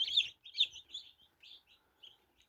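Newly hatched chicks in an incubator giving a string of high, thin peeps, about ten short chirps in an irregular rhythm, close and fairly quiet against an otherwise silent background.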